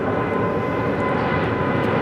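An airliner flying a missed approach at LAX makes a dense, continuous jet roar that stays loud and even throughout.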